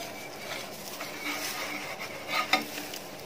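Kerala porotta, a soft layered flatbread, sizzling on a small hot pan as it is flipped; a steady close frying hiss carries throughout, with a couple of brief louder scrapes near the end.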